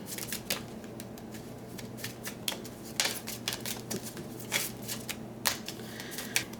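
Playing cards shuffled and dealt one at a time, giving a string of crisp, close snaps and riffles in irregular bursts over a steady low hum, with no talking.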